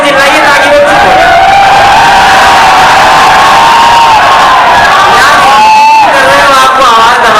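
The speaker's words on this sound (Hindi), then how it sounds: "आप लोग ज्यादा जोर से चिल्लाइए ताकि वो चुप हो।" A large audience at a poetry recital shouts and cheers loudly and continuously, a dense roar of many voices with a few higher whoops rising above the crowd noise.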